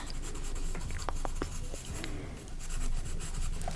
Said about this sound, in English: So let me write down this real quick.